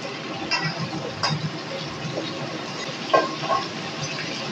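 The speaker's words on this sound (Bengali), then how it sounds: "ফুলকপিটা আমি লাল লাল করেই ভেজে নেব" Cauliflower fries in hot oil with a steady, low sizzle, broken by a few soft scrapes and knocks of stirring, close and moderately quiet.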